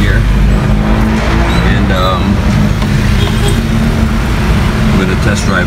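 A Hyundai Accent with a repaired head gasket that still runs poorly drives along a highway, producing a loud, steady road and engine roar. Someone talks briefly over it.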